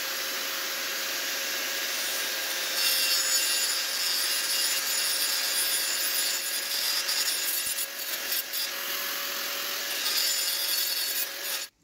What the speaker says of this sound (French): je vais déjà poncer à ce niveau-là pour enlever un petit peu la peinture, pour que la colle accroche bien au niveau de l'aluminium